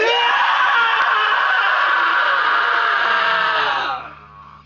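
Two people scream together in one long, loud, sustained shout lasting about four seconds before breaking off, close to the listener, with no talking during it.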